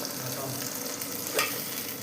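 A masala paste of coconut, chili powder, onion, ginger and garlic sautés in a pan for Tamil fish curry, a steady close sizzle with stirring and one brief scrape, no talking.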